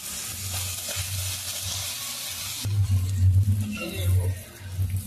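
Puris frying in overheated oil, a steady close sizzle with bubbling bursts that swell louder midway, alongside faint kitchen stirring sounds.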